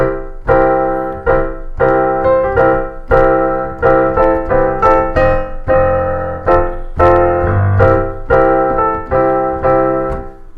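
Piano chords struck repeatedly, each a rich C dominant seventh sound, played in a steady series of attacks with some arpeggiated notes, loud and close, no voices.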